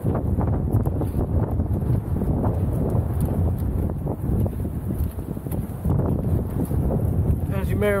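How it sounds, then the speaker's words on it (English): Strong wind blows across a frozen lake while someone is out ice fishing during a wind advisory, giving a loud, continuous rushing roar with heavy buffeting against the microphone that lasts throughout. "it's kind of windy out"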